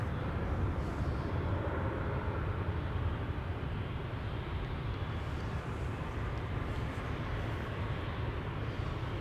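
An airliner rumbles at Amsterdam Schiphol Airport, its engines a steady, loud low roar that holds unbroken throughout, with no voices over it.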